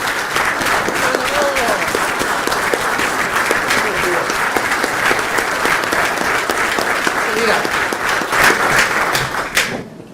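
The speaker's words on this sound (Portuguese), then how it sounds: "Agora queria que dessem uma salva de palmas que ele merece de pé" A large audience gives a standing ovation to a speaker at a club's anniversary gathering, with dense, sustained clapping that holds loud and steady for about nine seconds before tapering off, with a few voices mixed in.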